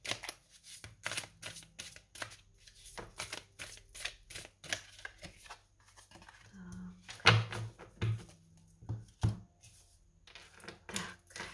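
Shamanic oracle cards are shuffled and drawn by hand, making quick papery riffles and soft taps in irregular clusters, fairly close and quiet, with a few muffled knocks.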